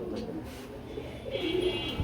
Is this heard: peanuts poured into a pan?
no